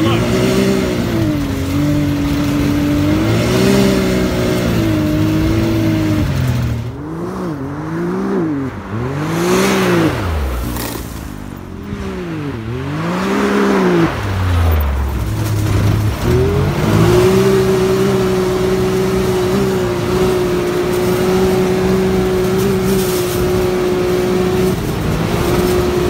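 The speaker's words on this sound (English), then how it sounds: "Driving Can-Am Turbo RR. Well, probably it's gonna be super loud, so you won't be able to hear me." A 2021 Can-Am Maverick X3 Turbo RR engine roars loud and close on a desert run, holding a steady drone, then revving up and down in repeated swells before settling back into a sustained high-rpm whine.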